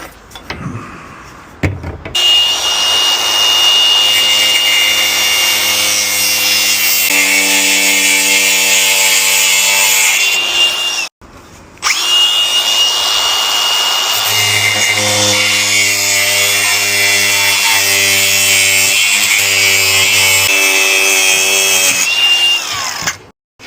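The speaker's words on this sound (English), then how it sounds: "Now I'm going to trim off 10 mil because these are never straight." A power saw cuts a strip off the ridged edge of a bath panel in two long, loud, steady passes with a sharp whining buzz, separated by a brief pause.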